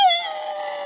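A single dog lets out a short, high howl that starts sharply and tapers into a wavering, fading tone, close to the microphone with no talk.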